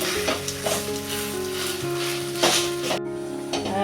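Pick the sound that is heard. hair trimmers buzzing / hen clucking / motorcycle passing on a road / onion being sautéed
onion being sautéed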